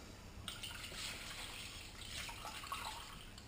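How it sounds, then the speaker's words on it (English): Heated milk poured from a container into a yoghurt maker, a faint, soft liquid trickle and splash that stays quiet and steady for a few seconds. "Pour the rest of the heated milk in."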